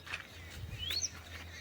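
A few faint, high sparrow chirps ring out briefly over a low steady outdoor hum during a morning walk.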